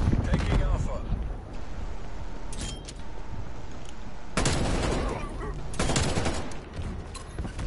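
A sentry gun in Call of Duty: Black Ops Cold War letting off loud, sharp bursts of automatic fire in separate volleys, mixed with other gunfire and voices speaking.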